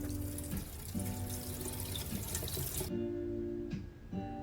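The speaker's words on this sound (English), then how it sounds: "So right now I'm just washing the potatoes." Potatoes are rinsed under a running kitchen tap, water streaming and splashing steadily and close by, with brief shifts in the flow as they are turned by hand.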